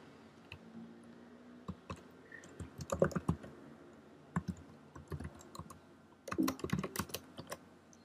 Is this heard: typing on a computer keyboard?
yes